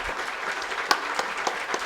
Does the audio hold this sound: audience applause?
yes